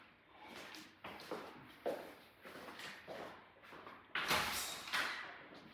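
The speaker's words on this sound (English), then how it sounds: "I open the door." A door being opened at home during dog training for a place command: a quiet run of soft thumps, rustles and shuffling knocks, ending with a louder clatter near the end, with no voices.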